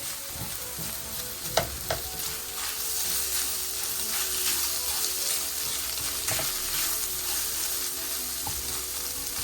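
Ground meat for street tacos fries in a pan while a spatula breaks it up, giving a steady close sizzle with a few sharp scraping clicks against the pan.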